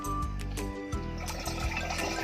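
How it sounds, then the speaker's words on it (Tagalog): Water mixed with liquid fertilizer being poured into a container for spraying sweet potato plants, heard up close as a short gurgling, splashing pour of about two seconds. "at nilagyan ko na po ng kaunting tubig, tapos isasalin ko na po ito"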